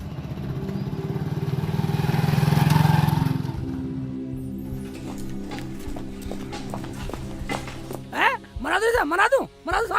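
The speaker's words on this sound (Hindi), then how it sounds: "बाइक आगे न सरक रही तुमसे बिल्कुल भी" A motorcycle putters slowly with a low, steady engine rumble that swells early on, then fades under loud, animated voices talking over it.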